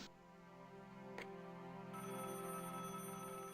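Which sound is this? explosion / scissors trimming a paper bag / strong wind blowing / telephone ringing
telephone ringing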